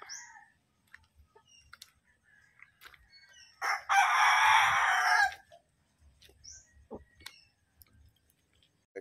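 A rooster crows loudly once, a sustained ragged call, with scattered soft clucks and small rustles before and after it.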